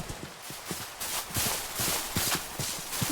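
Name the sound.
horse hooves clip-clopping in Minecraft video game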